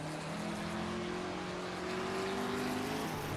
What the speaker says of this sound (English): I'm enjoying the sound of this car so much, I'm kind of forgetting to drive it.